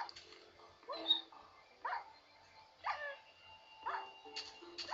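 A dog in Minecraft that has walked into fire gives a series of five short, yelping whimpers spaced about a second apart, moderately loud against a quiet background.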